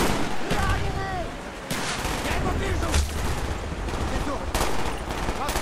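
Rapid gunfire and bursts in a Call of Duty Black Ops video game firefight, loud and close with overlapping shots, shouted voices and whizzing sounds mixed in.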